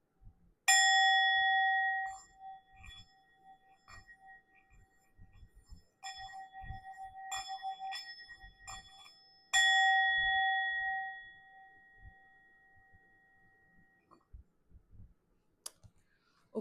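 Sound healing bells struck several times, each ring bright and sustained before slowly fading, with a cluster of quicker strikes in the middle and faint clicks and handling noises between them in a quiet room.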